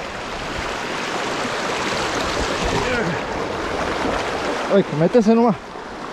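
River water rushes steadily over a stream crossing on a trek near Tafí del Valle, a broad continuous wash, and a person calls out briefly near the end.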